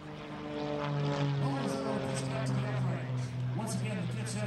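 A Pitts S2 aerobatic biplane taking off at an air show in North Bend, Oregon, its propeller engine droning loud and steady at some distance under a commentator's voice.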